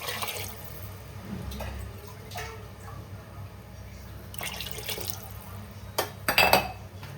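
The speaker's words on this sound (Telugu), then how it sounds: "ఇప్పుడైతే ఇందులో వాటర్ పోసుకుందాము" Water is poured into a pot of rice for prawn pulao, a soft running and trickling sound with a few sharp clinks of a vessel near the end, close and fairly quiet.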